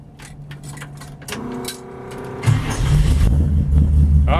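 A 1947 Oldsmobile 66 custom street rod with a 455 Olds V8 starting: a brief starter whir, then the engine catches and settles into a deep, loud, rumbling idle close by.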